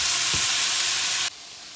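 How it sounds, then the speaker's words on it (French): Lardons, onions and peppers sizzle in a hot pan, a loud steady broadband frying hiss that drops abruptly to a softer sizzle near the end, with no talking. "je fais revenir mes lardons"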